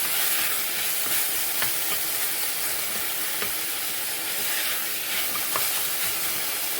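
Herbs such as coriander sweat in a small amount of butter in a pan, giving a steady close sizzle and hiss with a few brief stirring clicks, and no voices.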